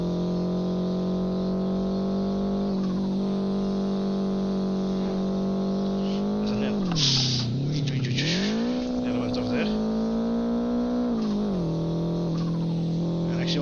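Race car engines roar loudly and steadily in the Live for Speed video game, with pitch swells and dips as cars accelerate, brake and overtake, and a brief tire squeal midway; a voice talks over it.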